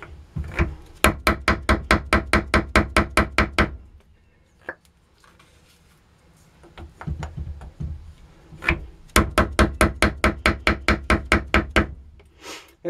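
Powder being tamped into a paper spolette tube with a solid rammer and mallet: two long runs of rapid, evenly spaced sharp knocks, with a few scattered single taps in a quieter stretch between them.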